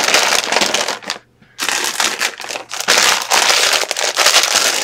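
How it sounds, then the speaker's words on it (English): A plastic bag rustles and crinkles close up in a crafting session, a dense, continuous crackling broken by one brief pause. "Sorry about the rustle of a plastic bag."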